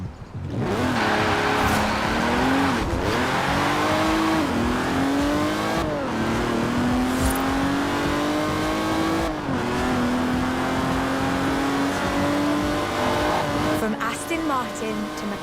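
Engine sound from Forza Horizon 4 as a car drives and revs, a loud continuous engine note rising through several gear shifts with brief dips between them and tire noise underneath.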